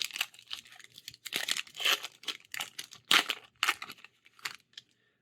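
Foil wrapper of a Magic: The Gathering Throne of Eldraine booster pack crinkles and tears up close in a series of sharp, irregular bursts of crackling, with brief pauses between.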